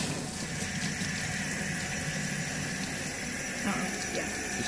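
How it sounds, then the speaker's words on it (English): Knives being rinsed under a running tap after a dye penetrant test, a steady loud gush of water splashing continuously and close up. "now she is going to rinse them off."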